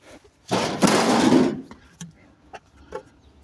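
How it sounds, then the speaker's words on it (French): A door in a game is knocked on: a few light, sparse knocks come in the second half, after a loud, noisy burst of rustling at the start. "On va toquer à porte à Paul."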